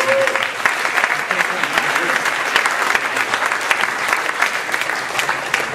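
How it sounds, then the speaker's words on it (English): An audience at a business-school talent show claps hard and steadily, with dense, continuous applause throughout. "Let's give him a round of applause."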